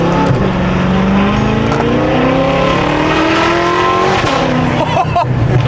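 A BMW F10 M5 fitted with a Valvetronic titanium exhaust revs loudly and close, its engine note sweeping up and down continuously, with voices audible in the background.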